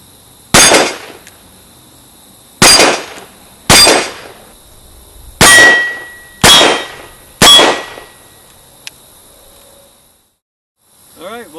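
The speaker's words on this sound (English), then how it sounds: "We are almost done shooting the Rossi 971 357 Magnum with a 4-inch barrel. We did the steel shooting with it." A Rossi 971 .357 Magnum revolver with a 4-inch barrel fires five loud shots, each followed by a ringing clang from a steel target. The shots come at roughly one- to two-second intervals, and a brief voice follows at the end.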